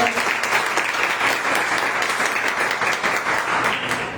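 A church congregation applauds steadily and densely. The sound is even and sustained, many hands clapping together at moderate loudness throughout, and no voices stand out.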